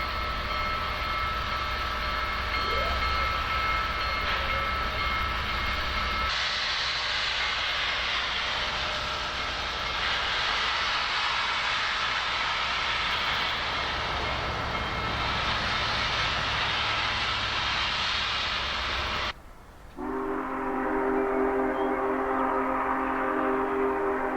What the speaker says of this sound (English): Here we see the train making its way out of Elko Yard.